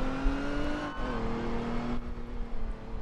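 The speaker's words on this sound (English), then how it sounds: "Nice Lamborghini" Engine of a Lamborghini in the Roblox ERLC police roleplay game, a steady humming drone with a slight rise in pitch, near and moderately loud with no talk over it.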